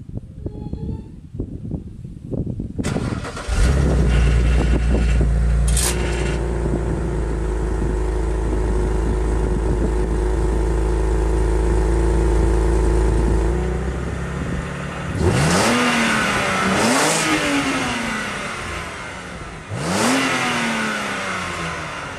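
A BMW 128i with a muffler-delete exhaust cranks on a cold start and fires into a loud, steady high idle that holds for several seconds, then settles, followed by a few sharp revs blipped up and down.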